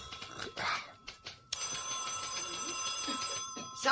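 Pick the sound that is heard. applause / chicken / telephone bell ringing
telephone bell ringing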